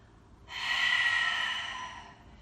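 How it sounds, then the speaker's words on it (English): One long, loud breath drawn in through the nose during a yoga breathing exercise, a close, rushing inhale that swells and then fades over about a second and a half, with no talking. "Big breath in, pulls you high."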